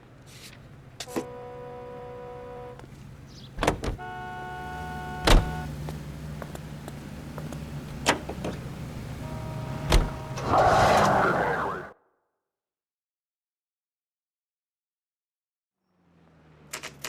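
A car in the L.A. Noire video game gives off a steady engine hum with whining tones and scattered mechanical clicks and thumps, then cuts off abruptly into near silence before a faint tone returns at the end.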